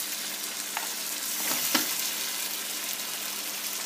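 Vegetables stirred into tomatoes cooking in a pan for pinakbet, a constant close sizzle with a few scraping stirs around the middle and no talking.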